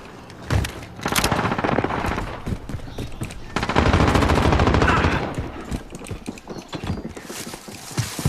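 Rapid bursts of video game gunfire in a combat shooter, with sustained automatic fire and scattered single shots, loud and dense for most of the stretch and easing toward the end.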